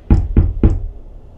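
Three firm knocks land on a house's front door in quick succession, loud and close, with dull thuds, followed by a short quiet pause.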